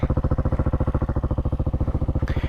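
Hawk 250 DLX EFI motorcycle engine running close up with a steady, rapid pulsing beat that holds even throughout, loud and alone with no voices.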